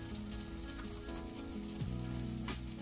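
Spices for baingan bharta (turmeric, salt, chili powder) sizzle steadily in hot oil on a traditional clay stove, a continuous close frying hiss with no talking.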